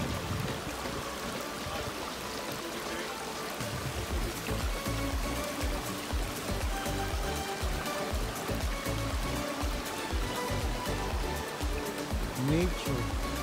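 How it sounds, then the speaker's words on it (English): A stream runs along a hiking trail on Tai Mo Shan, a steady, broad rush and trickle of water heard close by and without pause, with no talk over it. "Running water right here."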